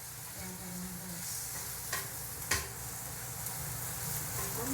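Food sautéing in a pan in a home kitchen in Taiwan, with a soft, steady sizzle and a couple of brief utensil clinks and scrapes, no voices.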